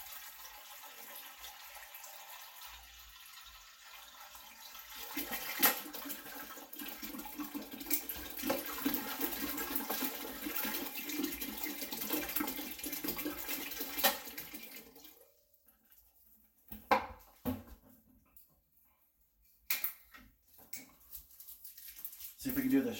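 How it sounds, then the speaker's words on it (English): About two gallons of water gushes steadily into a brewing pot for about fifteen seconds, then cuts off, leaving a few clanks, knocks and brief splashes. "we're just going to put 2 gallons of water into the pot"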